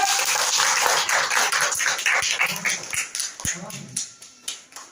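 Schoolchildren and parents at a school Republic Day gathering clap for a student, a brisk patter of many hands that thins out and fades toward the end, with a dog whimpering and voices around it.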